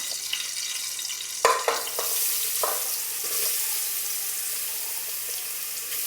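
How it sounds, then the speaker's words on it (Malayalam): Grated carrot sautéing in a pan for carrot laddu, a continuous close hiss of frying with a short cluster of spoon clanks and scrapes early on, then steady sizzling alone. "എന്നിട്ട് നന്നായിട്ട് വഴറ്റിയെടുക്കാം."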